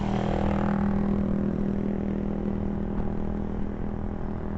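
A motorcycle engine idles and putters steadily during a casual ride, a close mid-pitched hum that holds level and fades slightly toward the end.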